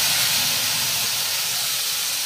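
Ground spice paste hits hot oil in a home kitchen pan with dried chillies, bay leaves and cardamom. It gives a loud, continuous broadband sizzle that holds steady and close throughout, with no voices.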